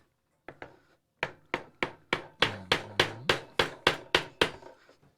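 Chiseling wood at a workbench: about fourteen sharp, close knocks come in a steady rhythm, each one a crisp strike that decays quickly, with a short pause after the first few. No voices are heard.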